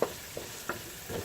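Garlic and onions sizzle in a pan on the stove, with a few soft scraping stirs breaking through a steady, quiet frying hiss.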